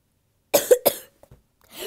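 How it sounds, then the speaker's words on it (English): Repeated coughing from a character in the game Doggy's Funeral: three close, harsh coughs in quick succession, then a couple of faint rasps and a rising breathy sound. "So much coughing."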